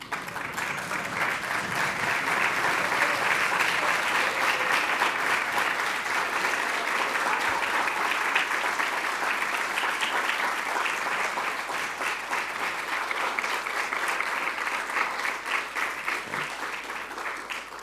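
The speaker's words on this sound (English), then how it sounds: "So could I ask you all to stand up and give them a round of applause?" Sustained applause from a standing audience at a volunteering conference in Queensland, a dense steady wash of clapping that holds evenly for the whole stretch without fading.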